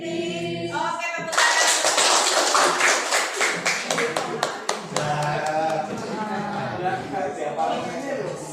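A group claps hands in quick rhythmic bursts, the sharp claps packed closely together, while voices chant and talk loudly over them.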